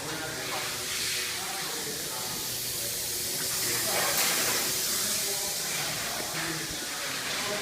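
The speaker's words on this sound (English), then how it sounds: "On the belt sander, we're going to knock these sharp edges down first." A belt sander grinds the sharp edges off cut sheet metal with a steady, hissing abrasive roar, loud and continuous throughout with slight swells in pitch.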